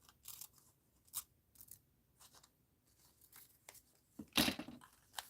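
Scissors cut out a paper doll in short, quiet snips and rustles spaced irregularly, with one louder crunching cut near the end and no talk.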